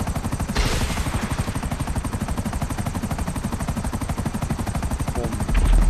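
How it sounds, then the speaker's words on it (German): A helicopter in the video game GTA Online thuds along with a fast, steady rotor chop, loud and close throughout, rising slightly at the end, with no talk over it. "Bring den Heli zurück, ich habe den falschen Knopf gedrückt."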